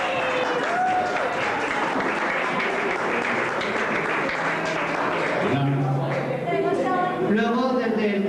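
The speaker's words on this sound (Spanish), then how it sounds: "Dale un aplauso." An audience at a Pride 2001 cabaret show, Ca Revolta, applauds in a sustained dense wash of clapping, with cheering voices and shouts rising over it toward the end.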